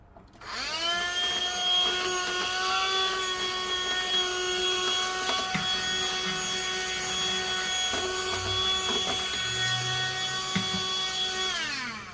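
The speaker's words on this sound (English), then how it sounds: "I love this mini vacuum." A mini vacuum cleaner runs close up while cleaning a sewing machine, giving a steady high-pitched motor whine with faint bumps and scrapes of the nozzle, and no talk.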